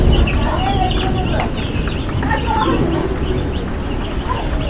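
Flock of chickens in a brooding shed clucks steadily and densely, many birds overlapping at close range with continuous chatter and no pauses.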